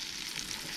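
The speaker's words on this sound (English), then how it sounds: "So we've got the butter sizzling in the pan." A brief, steady hiss of fish frying skin side down in butter in a hot pan, soft and continuous with no voices, at a wild camp in the Lake District.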